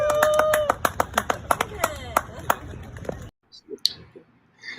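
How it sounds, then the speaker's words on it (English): A small group claps in scattered, distinct hand claps at a rock-and-roll talk event, sounding close and sparse with a voice over them, before the clapping drops away into near silence with a few faint sounds. "A round of applause right here."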